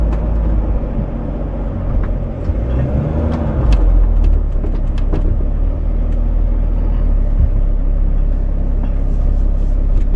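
A 4x4 off-road vehicle's engine holds a steady, even low rumble while driving slowly over rough ground, loud and continuous throughout with no talk.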